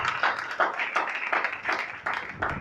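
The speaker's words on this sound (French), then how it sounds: "Un Amen accompagné d'acclamation." A church congregation claps and acclaims, with irregular bursts of hand clapping recurring every fraction of a second at moderate loudness, without distinct speech.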